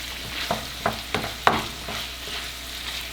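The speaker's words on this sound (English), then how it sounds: "We're going to try stirring this all up in there." A spoon stirring a thick soup mixture in a cooking pot, giving several soft scraping knocks at a steady pace over a low, faint sizzle.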